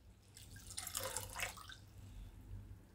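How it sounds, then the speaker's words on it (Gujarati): Water poured into cooked Gujarati dal to thin it, a brief soft splashing trickle lasting about a second, faint against a quiet kitchen background. "આને આપણે આછી કરવી હોય તો એમાં આપણે હજી પાણી નાખશું"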